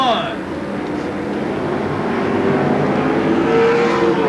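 Pro stock race cars circling Seekonk Speedway, a continuous distant engine roar that swells slightly as cars pass, heard beneath a track announcer's commentary.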